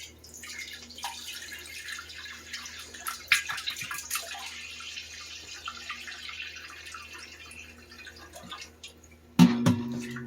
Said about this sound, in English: start by adding in my tomato juice or vegetable juice